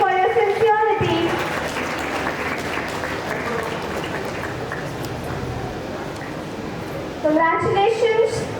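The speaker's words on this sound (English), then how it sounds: "A huge round of applause for the outgoing cabinet members" An audience at a school swearing-in ceremony applauds the outgoing cabinet members, sustained crowd clapping that follows a spoken announcement and gives way to more speech near the end.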